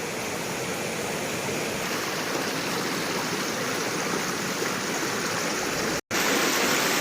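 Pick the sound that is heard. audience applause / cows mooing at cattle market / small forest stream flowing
small forest stream flowing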